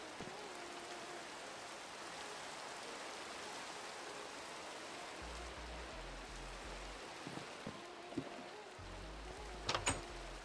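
Rain in the video game Minecraft, a soft continuous hiss of falling drops, with low thuds and a few sharp clicks near the end.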